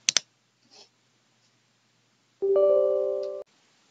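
A computer mouse gives a couple of quick, close clicks while installing a capture-card driver on Windows 10, followed after a pause by a short tonal system chime in an otherwise silent room.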